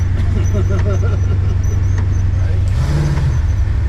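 An Oldsmobile car drives with a loud, steady engine drone throughout, swelling into a brief rev near the end, while voices murmur faintly inside the cabin.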